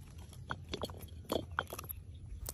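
A chipmunk eating peanuts, with soft irregular close-up chewing and small crunching bites, quiet and alone without talk.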